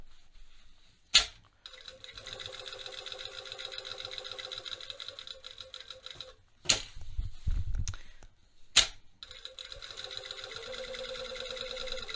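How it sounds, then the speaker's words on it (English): A sewing machine stitches around the back pocket of a pair of jeans, running in long steady whirring bursts close up, separated by brief sharp clicks and pauses, with faint handling noise between runs. "I'm just going to sew all the way around this pocket."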